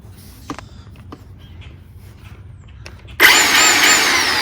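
A chainsaw with a smoking fault starts suddenly after a few quiet clicks and handling noises, then runs with a loud, close, high engine whine. No one speaks.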